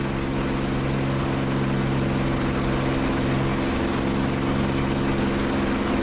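A P-51D Mustang piston engine running steadily inside the DCS World flight sim, a loud, constant droning hum with strong low tonal bands that hold unchanged throughout, no voices over it.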